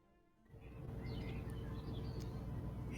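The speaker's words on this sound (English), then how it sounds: "I can hear the birds chirping" Faint birds chirping in short, scattered high calls over a steady low rumble and hum, quiet and somewhat distant.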